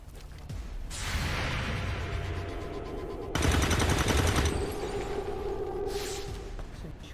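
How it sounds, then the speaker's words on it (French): Gunfire in the video game XCOM 2, dense rapid bursts over a continuous loud battle bed, with a heavier burst midway and a soft voice faintly underneath. "Je tire les dernières munitions."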